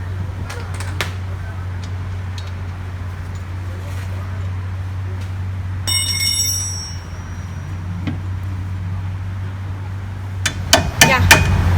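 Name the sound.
hammering out car wheel hub assembly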